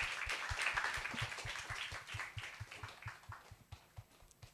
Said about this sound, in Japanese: 拍手してください